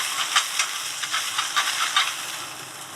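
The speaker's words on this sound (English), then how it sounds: "On the clams, saute. Add on the crab." Clams and crab sauté with butter in a pan in a restaurant kitchen, a steady hissing sizzle with soft stirring pulses, close and unbroken, no voices over it.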